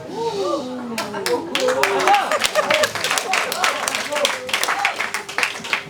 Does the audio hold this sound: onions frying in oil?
no